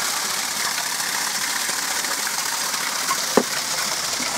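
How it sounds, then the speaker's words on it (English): Water gushes and splashes out of a homemade waterwheel experiment in a steady rushing stream, with one short knock near the end. "Water running out now."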